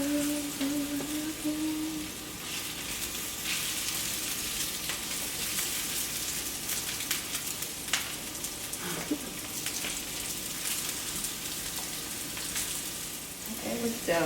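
Food fries in a pan over high heat with a steady, hissing sizzle and crackle that continues throughout, fairly soft and close, with occasional light stirring.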